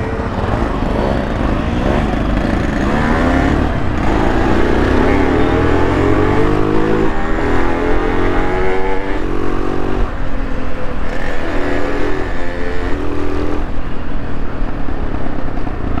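Yamaha RX 135 two-stroke motorcycle engine revving loudly and continuously, pitch sweeping up through repeated throttle blips over sixteen seconds, close by with a raspy buzzing tone.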